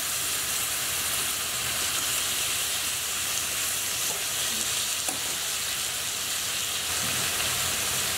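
Lamb and pomegranate kebab skewers cook over heat with a strong, continuous sizzle and hiss, steady and close, with only a couple of faint ticks breaking the even frying noise.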